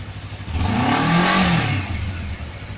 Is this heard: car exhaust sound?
yes